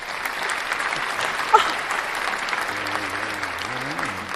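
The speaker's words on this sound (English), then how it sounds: "Round of applause, please" A live audience claps in a sustained, even burst of applause, and a voice starts speaking over it near the end.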